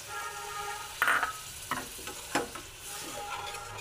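Water poured into hot oil in a pan for an egg omelette curry gives a soft, steady sizzle, broken by a few sharp spatula scrapes and taps against the pan, fairly quiet, with no voices.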